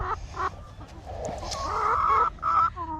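Backyard hens, including a barred rock, cluck and murmur close by in a series of short throaty calls rising into a longer warbling cackle, with several birds overlapping.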